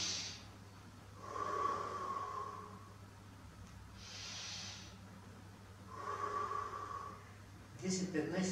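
Slow, deep breaths drawn in through the nose alternate with breathy exhales in a steady cycle, close and soft with faint low hum beneath.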